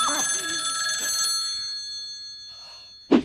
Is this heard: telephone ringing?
yes